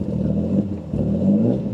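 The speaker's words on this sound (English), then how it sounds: "if I go to give it any gas, it'll die." A boosted Infiniti G35 engine struggles to stay running, a low, uneven rumble that surges briefly as it is given gas and sags as if about to stall.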